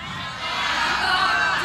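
A crowd of mothers from Bogor cheers and shouts together at a religious gathering, with a loud, sustained burst of voices that swells after the first half second.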